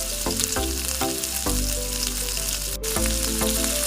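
Spice paste fries in hot oil with a loud, steady, close sizzle that runs unbroken throughout, and no voices are heard.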